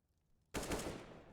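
Gunfire in Counter-Strike erupts abruptly after a near-silent start, a loud dense burst of rapid shots that stays strong and slowly tails off, with no talk over it.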